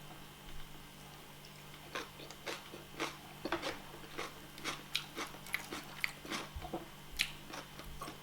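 Roasted plantain eaten with crunchy onions and red oil pepper sauce, Nigerian mukbang style, heard as close, soft bites and chewing crunches that repeat irregularly over a faint steady hum, with no talking.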